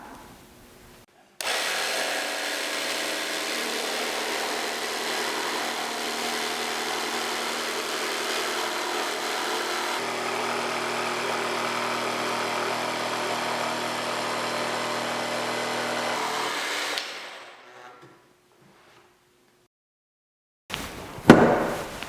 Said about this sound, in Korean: 직소는 나무를 직선이나 곡선으로 자를 때 사용합니다.